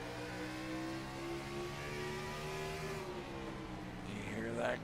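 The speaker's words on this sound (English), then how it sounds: "You hear that car just barely gets revved up" A Gen 6 stock race car at Martinsville, engine droning steadily with a rising and falling pitch as it revs briefly and backs off, heard faintly at moderate distance throughout.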